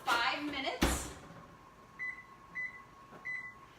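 Someone sets the timer on a kitchen oven during baking: a door thud, then three short electronic beeps spaced about half a second apart over a faint steady hum, with speech briefly at the start.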